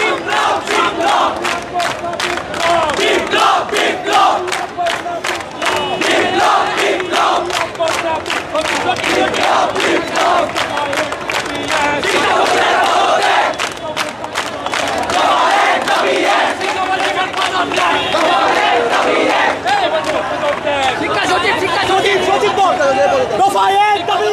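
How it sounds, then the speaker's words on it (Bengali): HSC exam candidates protesting in a street in front of the education board office in Muradpur, Chattogram, chant slogans as a loud rhythmic crowd, repeated call-and-response shouts pulsing steadily throughout. "তারা একের পর এক স্লোগান দিয়ে যাচ্ছেন এখানে"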